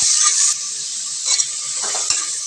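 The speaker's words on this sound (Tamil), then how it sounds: "கூடவே 2 கீரைன பச்சை மிளகாய் இது மாதிரி கீரிட்டு சேர்த்துக்கோங்க. நம்ம வதக்கிக்கலாம்." Chopped onions and green chillies sizzle loudly in a hot pan while being sautéed for bottle gourd biryani, a bright continuous hiss with occasional stirring scrapes and clinks.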